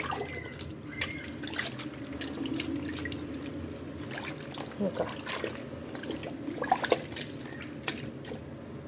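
Butter is washed in water by hand to make ghee, giving soft close splashing, sloshing and dripping with occasional light clinks, steady and fairly quiet throughout.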